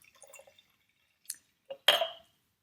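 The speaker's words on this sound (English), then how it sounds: "what I'm also going to do is I'm going to add a little bit of water" Water is added to a jar half full of concentrated vinegar during a kitchen chemistry demonstration: a few faint, scattered drips, then a short, close splashing pour lasting about a third of a second, with no voices.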